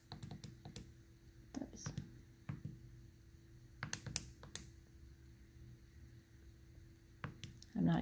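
Numbers are tapped into a phone calculator in a quiet room, with a string of soft, irregular clicks and taps, some in quick bursts, and a faint background hum and no talking.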